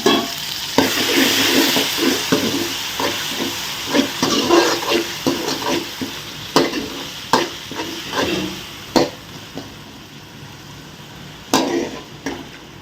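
Masala for a seer fish (vanjaram) curry fries in a pan while a spoon stirs it, giving repeated clattering scrapes over a fading sizzle, close and fairly loud, with no speech.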